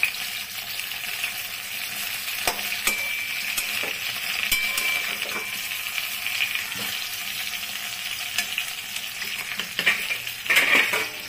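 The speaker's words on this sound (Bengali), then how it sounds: "দই পটলগুলো এক পাশ ভাজা হয়ে গেছে, এখন আরেক পাশের জন্য উল্টে দিচ্ছি সব।" Pointed gourds sizzle in oil in a pan while being flipped to fry the other side for dahi potol, a steady crackling fry broken by scattered scrapes and clinks of the utensil against the pan.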